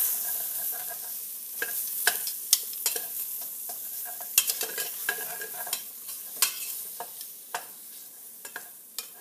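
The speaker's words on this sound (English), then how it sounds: "I'm going to toast up the seasonings." Seasonings toasting in a pan for shredded beef, a soft dry sizzle punctuated by frequent crisp clicks and scrapes of a utensil stirring against the pan, close and without talk.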